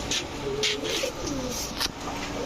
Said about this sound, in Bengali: এই হচ্ছে রাজশাহী গিরিবাজ মাদি